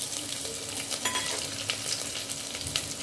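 Black mustard seeds, eight garlic cloves, a bay leaf and red chillies crackle in hot oil as a tempering for a village-style greens dish, a soft continuous sizzle with faint pops, no voices.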